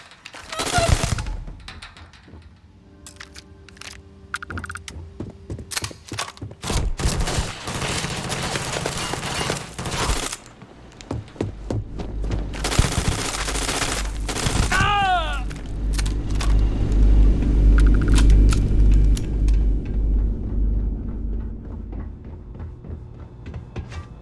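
Starfield gunfight in city streets during a Ryujin Industries mission: dense, rapid bursts of automatic fire and single loud cracks crowd the first half, then a rumbling vehicle-like drone builds and takes over, with voices shouting between volleys.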